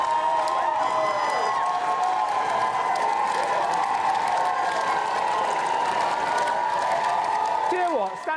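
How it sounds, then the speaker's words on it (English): Applause from a studio audience at a craft show celebrating a finished make, steady crowd clapping and cheering filling the whole stretch at even loudness, with a voice speaking over it and a few tonal sounds near the end. "Go on, get the applause going."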